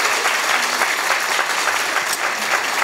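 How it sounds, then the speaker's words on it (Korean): A lecture hall crowd of university students in Gwangju breaks into loud, dense applause, a continuous roar of many hands clapping close by with no pauses. "박수합니다"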